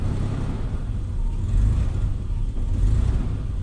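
A barn-find BMW E34 engine runs just after a cold start with a little throttle held, giving a low, rough rumbling idle that swells slightly in the middle and stays steady and close.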